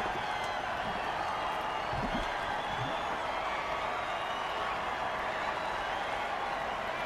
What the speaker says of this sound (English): Oh, crowd's loving it.